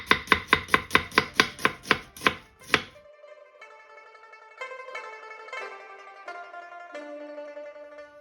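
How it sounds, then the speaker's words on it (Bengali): A knife slices onions thinly on a board for chicken pulao, about ten quick, evenly spaced sharp chops close up, then the cutting stops and soft music continues alone. "আমি এখন এগুলোকে এভাবে একটু স্লাইস করে পাতলা করে কাটবেন স্লাইসের জন্য।"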